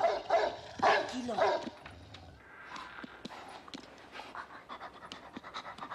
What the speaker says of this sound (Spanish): ¿De quién es ese perro?